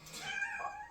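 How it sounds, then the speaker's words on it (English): A cat gives a single drawn-out meow in the background, faint and alone, rising then falling over about a second. "you might hear my cat in the background"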